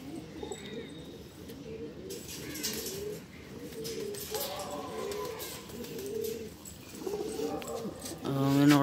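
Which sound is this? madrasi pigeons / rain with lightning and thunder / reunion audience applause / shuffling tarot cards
madrasi pigeons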